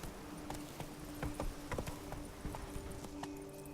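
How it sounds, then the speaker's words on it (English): The horse Roach in The Witcher 3 clip-clops at a steady walking rhythm, each hoof strike distinct over a low ambient hum, with no talk. "This is the best horse of all time."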